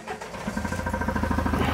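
A diesel engine runs during an injector leak-off test, settling into a steady, rapid knocking idle rhythm close by.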